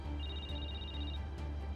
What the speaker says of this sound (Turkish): Telefonu çalıyor. Bırak şimdi telefonu